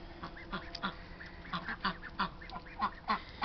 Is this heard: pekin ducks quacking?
yes